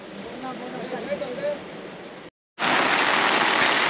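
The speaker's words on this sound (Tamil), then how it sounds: "பாருங்க பிச்சு அடி சரியான மழை." Heavy monsoon rain pours down on a roadside near Vagamon, Kerala, with a dense steady hiss that briefly cuts out, then returns louder and close; voices talk over the first part.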